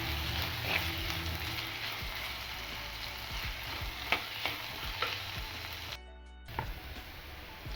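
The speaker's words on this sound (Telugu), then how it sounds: "ఇలా ఉల్లిపాయలు వేగుతున్నప్పుడే 3 చీల్చిన పచ్చిమిరపకాయలు, కరివేపాకు వేసుకొని కొంచెం కలుపుకోండి" Sliced onions frying with slit green chillies and curry leaves crackle and sizzle steadily in hot oil, with a spoon stirring and scraping close by, a brief drop in sound partway through.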